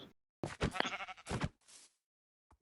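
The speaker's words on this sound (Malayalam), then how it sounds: "ഒരു ഷീപ്പും കൂടി അവിടെ നിക്കണു." Sheep bleating in the Minecraft video game, two or three short wavering bleats in quick succession, close and clear, with silence between them.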